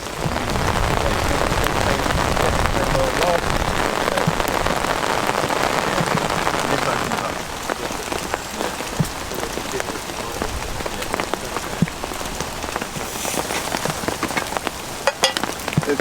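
Steady rain drums on a canvas tarp shelter at a woodland bushcraft camp, a dense, continuous patter with scattered sharper drops, heavier in the first half and then slightly lighter.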